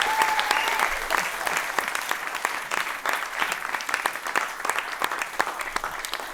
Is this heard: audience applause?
yes